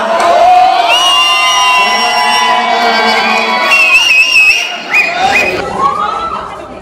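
Crowd cheering and whooping at a college dance program at the National Institute of Ayurveda in Jaipur, loud and close, with shouts and chatter from many young voices and a person talking over it.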